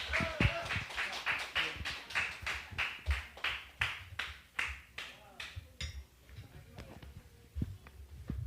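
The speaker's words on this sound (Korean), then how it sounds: "강의해 주신 우리 스님께 다시 한번 큰 박수 부탁드리겠습니다" Audience applause after a Buddhist monk's lecture on the Agama sutras: a steady run of clapping for several seconds, then it thins out into scattered claps and room noise.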